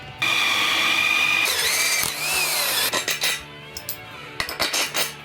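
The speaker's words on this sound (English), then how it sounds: "work out where to drill our holes to fix the bearing into the frame" A power drill whines continuously, bites into a metal mobility scooter frame to mount a bearing, then stops and restarts in short bursts, with clinking and scraping of tools nearby.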